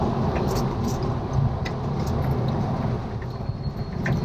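A VW Beetle cruises on a road at about 50 miles an hour, with a steady in-cabin engine rumble and road noise throughout and a few faint clicks.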